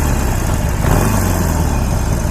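A Harley-Davidson motorcycle engine idles nearby with a loud, steady, rumbling low-end throb and no talking, the engine shaking heavily as it runs.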